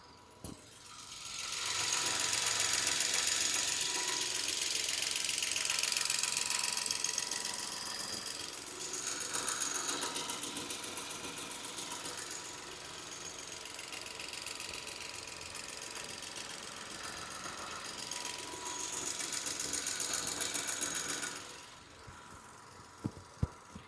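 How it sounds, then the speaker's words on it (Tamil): A 2010 Nissan Micra XV hatchback engine idling close up, a steady mechanical hum with a rapid ticking rhythm, holding for about twenty seconds before cutting off. "இப்போ இந்த வண்டியோட இன்ஜின் சவுண்ட் எப்படி இருக்குன்றத மைக்கை பக்கத்தில் வச்சு நான் உங்களுக்கு காட்டுறேன்"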